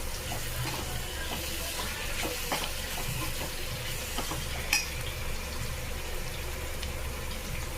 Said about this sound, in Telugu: ఆనియన్స్ బాగా గోల్డెన్ కలర్ వచ్చేంత వరకు బాగా వేగనివ్వాలి